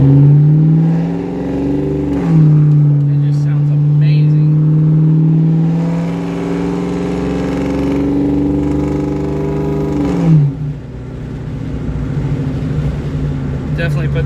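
A 2003 Ford Mustang GT 2-valve V8 with catless custom H-pipe, resonator delete and dual Black Widow mufflers revs and pulls through its gears, a deep rumbling exhaust rising and falling in pitch, loud and close throughout.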